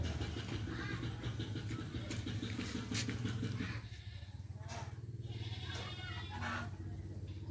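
Goats bleating on a small farm beside a garden of orchids and flowering plants, cries rising over a constant low background hum, with the noise thinning partway through.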